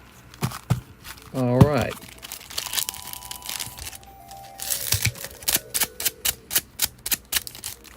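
Scissors snip open a Pokemon card pack, a run of short, crisp cutting and crinkling sounds close by near the end, with a person speaking briefly earlier.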